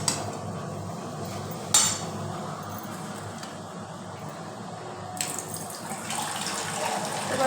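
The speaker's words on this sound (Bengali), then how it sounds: "এবার অল্প একটু সামান্য একটু জল দেব।" Water splashes into a pan of frying lotte dry fish, giving a steady broad hiss and sizzle with a few sharper clinks and bursts, close and moderately loud throughout.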